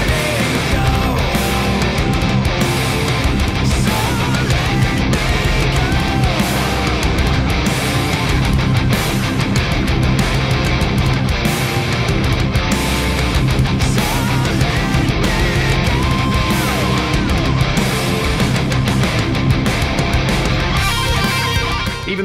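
A distorted guitar bridge riff in drop C tuning from a song plays loud and continuous within a dense full-band mix, with no talking over it.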